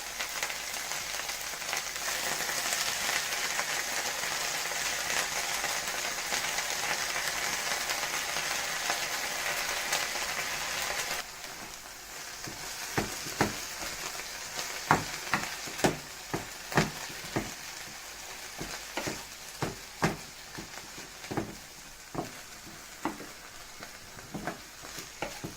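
Banana flower and drumstick leaves fry in a pan, first as a steady, dense sizzle and then with a quieter crackle broken by repeated stirring scrapes and clicks of a utensil against the pan.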